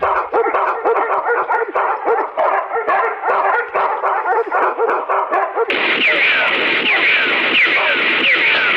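Several dogs bark and yip in a jungle scene of a Hindi film, dense and loud, mixed with music and background noise that shifts partway through.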